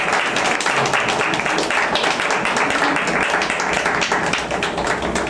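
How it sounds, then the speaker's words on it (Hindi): Audience applause at a Hindi Christian church gathering, a dense continuous wash of many hands clapping at steady loudness throughout, with no clear pauses. "ठीक है, ताली बजाइए।"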